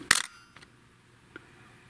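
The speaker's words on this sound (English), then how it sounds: "I'm going to fire off the shutter, and we'll see what this thing reads out." A camera shutter fires once at a 1/60 second setting, a sharp close click followed by two fainter mechanical ticks, in a quiet room.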